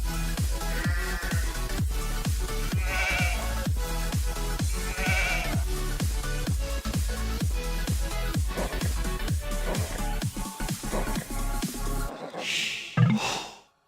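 Sheep bleat in Age of Empires 2 HD, the game's sound layered over a rhythmic, steady background beat, with short repeated animal calls near the start and a brief louder sound at the end.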